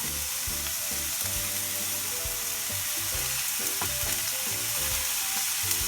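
Steady, loud sizzle of chopped flowers frying in a hot pan, a dense crackling hiss that runs continuously with faint stirring clinks and no talking.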